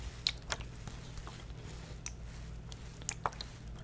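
Soft, close ASMR mouth sounds: scattered wet clicks and smacks at an irregular pace over a faint steady background hum.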